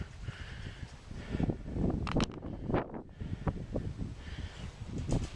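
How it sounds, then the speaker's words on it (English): Strong wind buffets the microphone at a high, shaking lookout north of Phoenix in rough, uneven gusts, roaring and rumbling with no voices. "And it's windy and this thing shakes."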